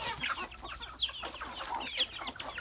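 About twenty hens cluck and chatter softly at a distance on a farm, with a few higher squawks rising over a busy background.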